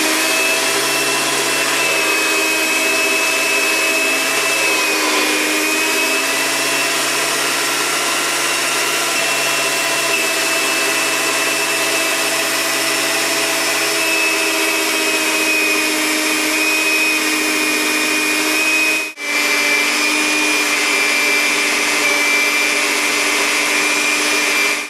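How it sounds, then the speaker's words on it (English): A power saw runs a block of wood through to clean crayon wax off its blade, a loud, steady whining drone sustained for the whole stretch with one brief dip near the end. "I'll have to put a block of wood through to clean the blade"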